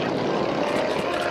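A Stearman PT-17 biplane at an air show drones steadily overhead with a loud, continuous propeller and radial-engine roar, flying low and close with no break in the sound.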